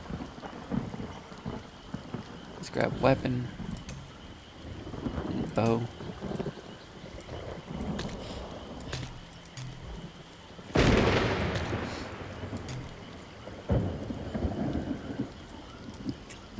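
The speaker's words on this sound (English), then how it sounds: "Lightning right there." Thunderstorm in the video game Elder Scrolls Online: steady rain hiss with rolling thunder, including a loud close crack midway, while someone talks over it.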